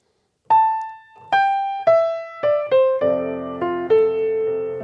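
Solo piano plays an opening melody as plain single notes, without slip notes: a slow, clean line of sustained tones, close and alone.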